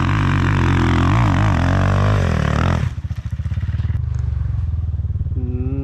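A KOVI Lite 300 enduro motorcycle engine revs hard and loud up close, holding a high pitch for a few seconds before dropping abruptly to a throbbing idle on an off-road trail.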